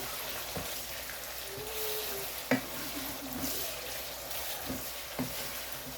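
Pepper sauce for grilled dishes simmering in a pan over medium heat, a soft steady sizzle and bubbling with a few faint clinks and stirring taps, quiet and close, no talking.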